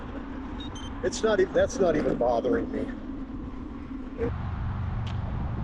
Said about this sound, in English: Yeah, and you can hear the cars going by me right now.